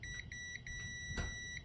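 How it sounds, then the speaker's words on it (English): Faint repeated electronic beeping from a lawn tractor's 5-prong ignition switch under test, a steady pulsing tone with a brief click of contact partway through. "and we're hearing the beep again."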